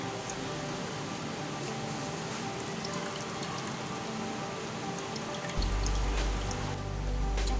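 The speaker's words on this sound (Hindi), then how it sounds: "ये देखें, सारा पानी निकल के नीचे चला जाएगा।" Water trickles and drips from a squeezed cheesecloth bundle of cottage cheese curds, a soft close patter that turns into a louder gush and low rumble near the end.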